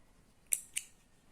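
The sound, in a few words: scissors cutting crochet yarn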